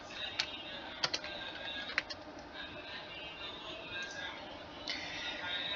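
Keys clatter in irregular bursts on a computer keyboard as hello world is typed for a basic Python lesson, soft clicks over a steady background hiss, with a few sharper taps standing out.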